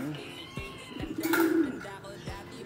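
Taiwan pigeons coo softly nearby, a low throaty call under a voice speaking over the birds.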